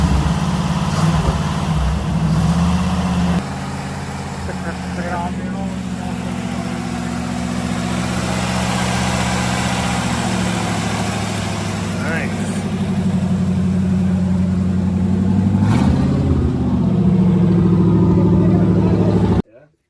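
A rebuilt engine fires for a test run. It idles close and loud, rising in revs with uneven surges and shifting pitch, while people talk nearby.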